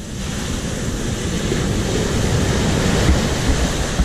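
Rough, stormy Mediterranean Sea surf in Israel roars continuously, a broad wash of crashing water with gusty wind noise, loud and steady throughout.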